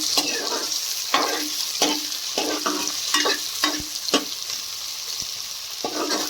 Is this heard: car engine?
no